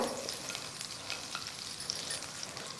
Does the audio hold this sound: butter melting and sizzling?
yes